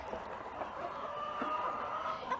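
Chickens on a Brahma farm cluck and murmur softly at moderate distance, a continuous overlapping chatter of hens with occasional louder calls.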